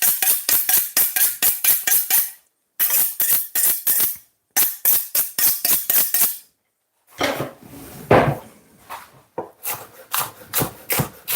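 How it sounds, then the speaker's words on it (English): A knife chops spring onion on a cutting board in three quick rhythmic bursts of close, sharp taps, then a softer rustle and rub as the pieces are gathered and sliced again, with no talking. "And the spring onion, oh, I'm cutting this."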